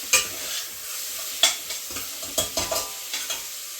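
Worcestershire sauce being stirred into chili beans in a pot, with a series of close, uneven scraping and clinking strokes and no talking.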